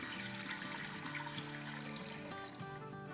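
Water pours steadily into a cooking pot for making dhokla, a continuous close splashing rush lasting a few seconds.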